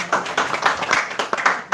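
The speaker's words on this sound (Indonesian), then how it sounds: "Sekali lagi, tepuk tangan." A group clapping hands in a village training session, a run of sharp, uneven bursts of claps close by, with brief gaps between them.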